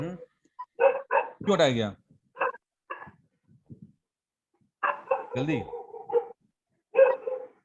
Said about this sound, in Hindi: कुत्ता बड़ा भौंक रहा है यार